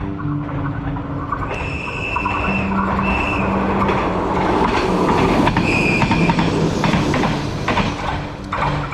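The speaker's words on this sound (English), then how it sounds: "we're gonna take the train just across the bridge" A train crossing a bridge on the northern Spanish coast in Cantabria rumbles steadily with clattering wheels and occasional high metallic squeals, loud and close throughout.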